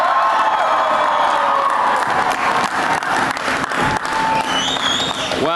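A large outdoor crowd at the March for Life in Washington applauds and cheers loudly and steadily, dense clapping mixed with whoops and shouts throughout.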